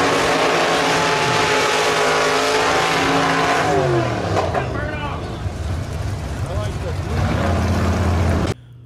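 Drag racing cars from a video game, a 1956 Chevy station wagon and a Willys Coupe, revving loudly in a sustained engine roar with tire-heating burnouts, pitch shifting mid-way, then cutting off abruptly.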